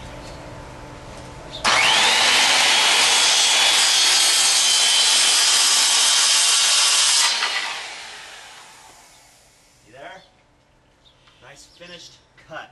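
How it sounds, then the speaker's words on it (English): A circular skill saw rips through a laminate flooring plank in one loud, steady cut of about six seconds, then winds down and stops, followed by some faint handling noises. "I'm just going to push the saw a little bit quicker right at the end so I don't get it splintered off."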